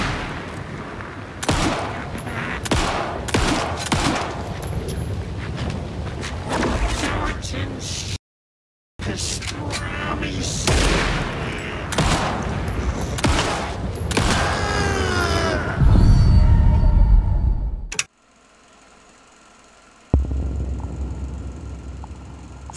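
In an Alan Wake 2 boss fight against Cynthia, rifle and other gunfire crack in repeated close bursts, mixed with mechanical clanks and a creaking rumble. Someone talks over the action, and the sound briefly drops out partway.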